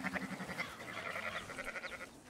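Sheep bleat repeatedly in a Red Dead Redemption 2 scene where a herder drives his flock along, the nasal, wavering cries close and moderately loud, overlapping one another with a faint low rumble beneath.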